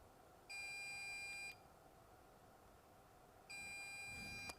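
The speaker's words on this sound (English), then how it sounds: "And what's that beep? Error message, pool threshold." A QNAP QGD-1600P NAS and network switch combo sounds a pool-threshold error warning as two steady electronic beeps, each about a second long, over a constant low hum of fans in a quiet room.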